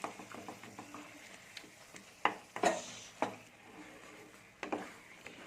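Eggplant being mashed and stirred with a spatula in a pan as the last of the water cooks off: irregular scraping knocks and clacks of the utensil over a faint, low sizzle.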